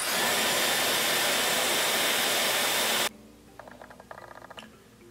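A hand-held hair dryer blows a steady, loud, close roar over a lace wig for about three seconds, then cuts off, leaving faint handling clicks and rustles.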